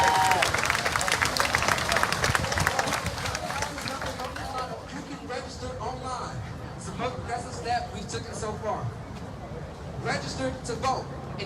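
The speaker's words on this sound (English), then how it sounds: "this crowd is easily 3 times larger than the one from Freedom Park yesterday" Large protest crowd of over 2,000 people at a George Floyd demonstration in Charlotte, North Carolina: dense, continuous crowd babble with scattered shouts and cheers, loud at first then a steady mid-level din, with a voice talking nearby.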